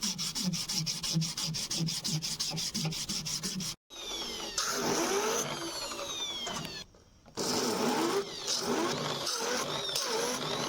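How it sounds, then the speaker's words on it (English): Sandpaper rubbed back and forth over the epoxy resin section of a wood and resin knife handle, a steady close scratching rhythm that pauses briefly twice before resuming with finer strokes. "Polish the resin portion with progressively finer sandpapers."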